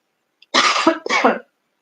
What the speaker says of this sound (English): I do apologize for my coughing